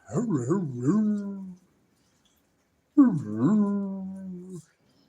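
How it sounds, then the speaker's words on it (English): A dog whimpers in two drawn-out, wavering whines close to the mic, separated by a short silence. "That's a good dog."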